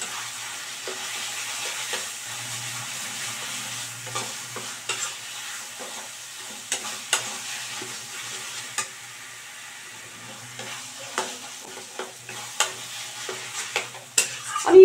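Minced chicken being stirred into hot spiced oil in a pan for a Bengali keema curry, with a steady sizzle under repeated scraping and clacking of the spoon against the pan, close and moderately loud, with no talking.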